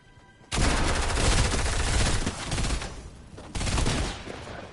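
Gunfire in the video game Fortnite, with the shotgun involved being a gray tactical shotgun: a loud, dense burst of rapid shots running about three seconds, a brief dip, then another heavy burst, close and continuous.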